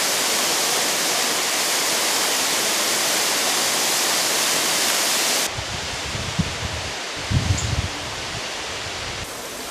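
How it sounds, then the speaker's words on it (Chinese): Waterfall spilling down a rock face in Bhutan makes a dense, loud rushing hiss for about five seconds, then the sound shifts to quieter water noise with a few low rumbling thumps. "沿着岩壁洒下的瀑布，净白如霜雪"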